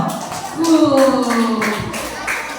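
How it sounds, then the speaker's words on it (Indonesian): A group of children at a Sunday school class claps for a boy named Alvaro, scattered claps mixed with high young voices calling out close by. "tepuk tangan dulu buat Alvaro"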